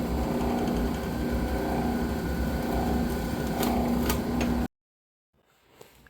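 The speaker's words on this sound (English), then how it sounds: "You're seeing me drill one hole" A power drill whirs steadily up close for several seconds with grinding, rattling bites into sheet metal, then cuts off abruptly into near silence.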